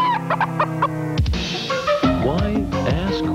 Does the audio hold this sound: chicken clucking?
yes